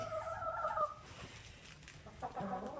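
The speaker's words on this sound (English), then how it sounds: "And shush that chicken away." A chicken on a homestead clucks close by in a short run of harmonic calls, then falls quiet before a few softer clucks return, with faint outdoor ambience between them.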